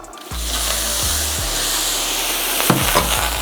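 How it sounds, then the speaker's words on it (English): Fresh blueberries and raspberries sizzle steadily in a hot pan over medium-high heat, a continuous close frying hiss with a low hum underneath and a few faint clinks partway through. "To that, I'm gonna add half a cup of fresh blueberries and 1 cup of fresh raspberries"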